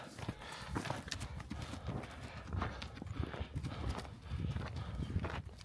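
A horse's hooves clip-clop in a steady walking rhythm, fairly quiet and close, while preparations for the Tsagaan Sar lunar new year go on; faint voices may sit underneath.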